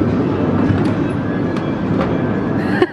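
A toy tram running along its track makes a loud, close, continuous rolling rumble with faint rhythmic rattles, heard alone without talk.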